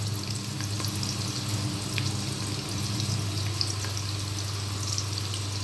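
Chopped onions frying in cooking oil for chana pulao, a steady soft sizzle over a low hum, close and continuous without speech.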